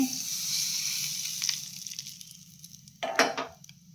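Ingredients go into half a spoon of heated oil in a pan for murali bharta, giving a hissing sizzle that fades gradually, then a sharp, louder crackling burst near the end.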